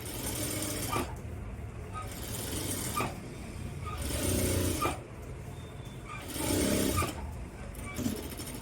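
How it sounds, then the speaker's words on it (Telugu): A sewing machine stitches a blouse neckline in steady runs of mechanical whirring, pausing briefly about every two seconds as the fabric is turned, close and fairly loud. "ఇలాగా ఇలా బ్యాక్ సైడ్ తిప్పి ఒక స్టిచ్ వేసుకుందాం"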